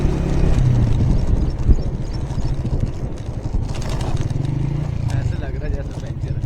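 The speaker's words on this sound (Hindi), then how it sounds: "ऐसे लग रहा है जैसे पंचर है यार, मोटरसाइकिल पंचर है यार" A motorcycle ride over a rough road in the Sutlej river flood area: a rumbling engine with steady rattling and clattering from the bumpy surface, close up, with voices talking over it.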